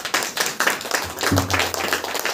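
A worship congregation clapping hands in rhythm, a fairly loud, close run of claps with voices and a low hum beneath.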